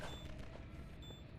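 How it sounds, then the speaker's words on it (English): Gunfire in the Half-Life 2 roleplay game, a steady dense wash of distant shots and booms running through the whole moment without clear separate cracks. "Again, more gunfire."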